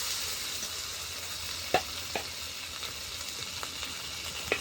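Chopped tomato and ginger-garlic-pepper paste with cumin sizzle among browned onions in a pan over a clay stove, a soft steady frying hiss broken by a few sharp spatula scrapes.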